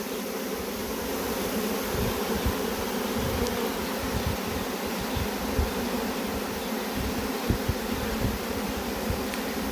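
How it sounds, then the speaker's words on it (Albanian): A swarm of honey bees fanning their wings, a dense continuous buzzing drone heard close and steady throughout, with no voices. "Shikojeni se si rrafin krahat për të shpërndarë feromonet e tyre"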